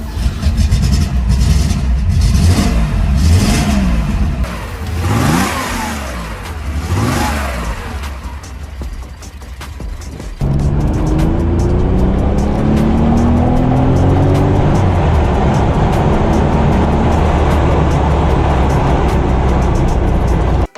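A 1972 Porsche 911 S Targa with a 2.4-litre flat-six, as rendered in the racing game Need for Speed: Porsche Unleashed, revs hard through rising and falling sweeps, then settles into a steady loud drone as it pulls away.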